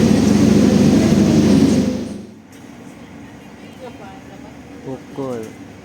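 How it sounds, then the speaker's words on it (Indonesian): The Jaka Tingkir economy passenger train rumbles loudly along, its dense roar dropping abruptly to a quieter steady hum with faint clanks, while a voice speaks briefly underneath. "kereta api Jakatingkir berangkat dari stasiun Kroya."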